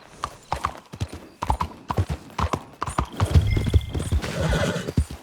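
Horse hooves clip-clop steadily in Red Dead Redemption 2, loud and close, with a horse's whinny partway through.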